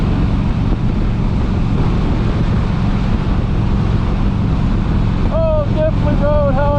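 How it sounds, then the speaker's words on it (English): Wind buffets a GoPro microphone outdoors despite its wind buffer, a constant loud, rough rumble filling the whole stretch, with a few faint thin whistling tones near the end. "I know I have this wind buffer on my GoPro, but that wind is still kind of whipping"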